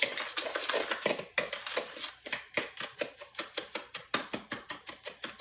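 Pecan pie filling with brown sugar and salt being stirred in a bowl, a utensil scraping and clinking against the sides in a quick, regular rhythm, close and moderately quiet.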